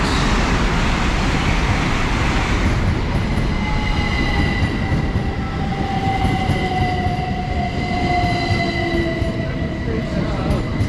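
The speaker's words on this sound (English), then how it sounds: "IET passing through at the exact same time." A Class 800 IET train passes through a Thames Valley intermediate station near Didcot Parkway, a steady loud rumble of wheels on rails holding throughout, with a high wheel squeal sliding slowly down in pitch.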